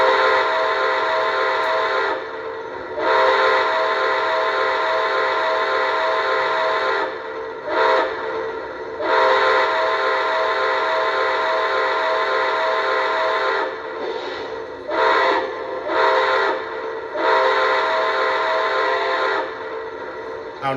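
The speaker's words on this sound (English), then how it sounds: "blow the whistle and keep blowing it or playing around with it and stuff, you are going to notice that the exiting tones of the whistle do change" A Lionel TMCC Pere Marquette 1225 model steam locomotive sounds its whistle in loud, sustained blasts of varying length, separated by short breaks, with the chuffing of the model running faintly beneath.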